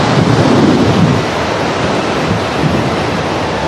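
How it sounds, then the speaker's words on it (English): Strong, steady typhoon wind at about 40 km/h roars and buffets the microphone at Hong Kong International Airport without letup, a dense rushing noise with no voices. "the wind speeds already up to 40 kilometres an hour"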